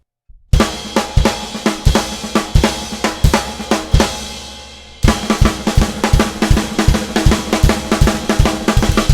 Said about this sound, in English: in the classic way, which is between the ride cymbal, the snare drum, and the bass drum